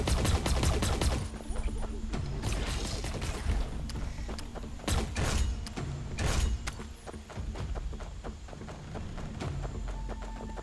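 Lancer rifle fire in a video game: bursts of gunshots crackle through a busy battle soundscape, with sharp reports clustered around the middle and scattered shots later, steady and moderately loud throughout.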